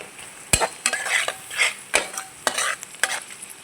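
Curry leaves and spices sizzle and crackle in hot oil while egg curry fries, with sharp stirring clinks of a utensil against the pan cutting repeatedly through the steady frying hiss.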